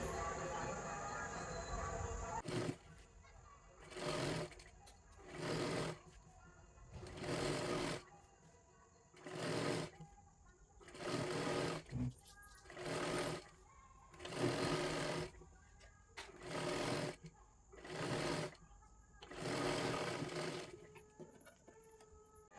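A sewing machine stitches a katori blouse in about a dozen short, rhythmic runs separated by brief pauses. It is close and clear, and a voice talks briefly at the start.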